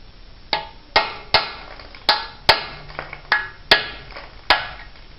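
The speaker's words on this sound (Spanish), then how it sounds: "por la parte de la orilla interna del sello, haremos con un cincel sin filo" A blunt chisel is hammered against the inner edge of an engine water seal: about nine sharp metallic strikes at an uneven pace, close and loud, each with a short ringing decay, and no talking.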